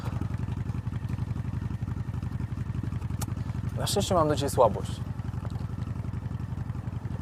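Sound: motorcycle

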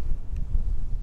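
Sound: wind

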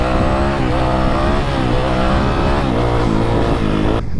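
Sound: Yamaha YZF 250 4-stroke dirt bike engine during wheelie

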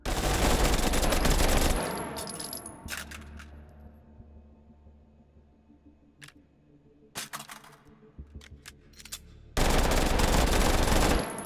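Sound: celebratory gunfire from G18 pistols in a VR video game

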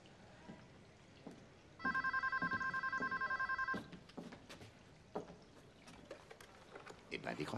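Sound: telephone ringing

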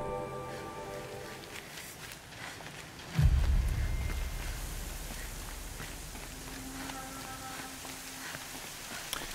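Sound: rain falling in the video game Horizon Zero Dawn

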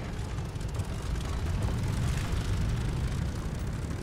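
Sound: airplane engine in the video game Vanguard

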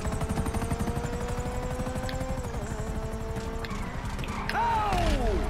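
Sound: helicopter in the video game GTA 5

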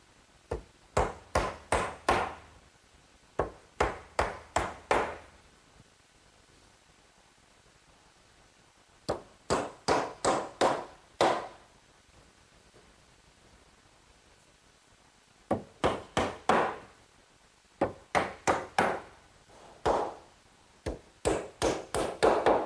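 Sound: hammering galvanized common nails into fence pales

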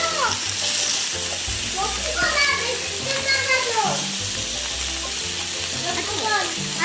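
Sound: meat sizzling in spattering oil

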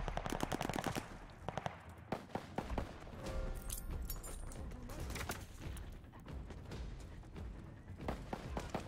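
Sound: gunfire in the video game Vanguard

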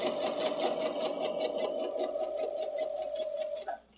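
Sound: sewing machine stitching at medium stitch length

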